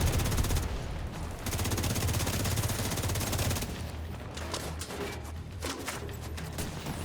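Sustained gunfire in the Division 2 video game on Legendary Roosevelt Island, with snipers firing amid a dense, continuous battle roar and scattered distant booms, steady and moderately loud throughout.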